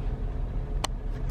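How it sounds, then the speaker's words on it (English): Steady low road rumble of car traffic heard from inside a waiting vehicle, with two brief faint hissy bursts standing out over the constant engine drone. "we're gonna sit here and wait in traffic"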